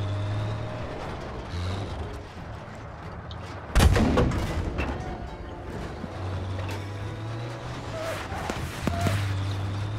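Bombs burst in Battlefield V as a Tiger tank advances over rocky ground: a heavy broadband blast lands near the middle, surrounded by rumbling engine drone and scattered gunfire thuds throughout.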